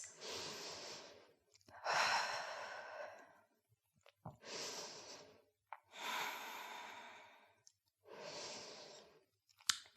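Deep breaths taken during a short rest in a beginners' headstand-prep yoga class: five long, airy inhales and exhales, close and fairly loud, separated by brief silences, with no talking.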